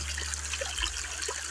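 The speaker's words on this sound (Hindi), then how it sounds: "ये पानी बहुत मज़े का और बहुत मीठा और बड़ी दूर से चश्मा चलता आ रहा है" Sweet spring water runs along a channel through a red valley of salt rocks, a soft, steady trickle with small bubbling splashes, close and gentle, with no one talking.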